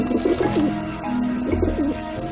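Birds coo softly in repeated low, rolling phrases over a steady background hum in the video game Grim Fandango Remastered.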